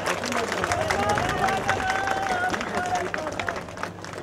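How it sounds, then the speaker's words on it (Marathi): Crowd applause at a political rally in Amravati, a dense, sustained wash of clapping and cheering that fills the whole stretch, with voices carrying over the noise. "एकदा जोरदार देवाभाऊसाठी जोरदार टाळ्या"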